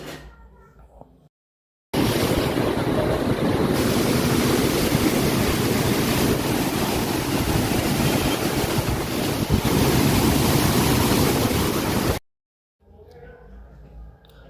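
Water pours through the open gates of the Jurala dam on the Krishna river, a loud, steady, broadband roar that runs unbroken for about ten seconds, close and powerful with some wind buffeting the microphone.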